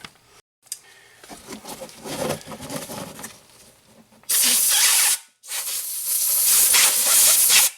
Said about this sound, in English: Get a blow nozzle, get that guy.